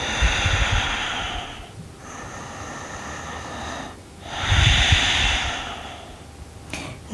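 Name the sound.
deep breathing during yoga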